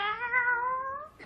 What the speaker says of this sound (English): Kitty, meow for me.